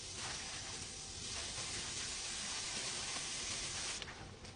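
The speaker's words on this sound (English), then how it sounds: "I'm gonna go ahead and put the shrimp in the pan." Shrimp hitting hot bacon grease in a pan give a steady, loud hiss and sizzle that runs unbroken throughout, swelling slightly at the end.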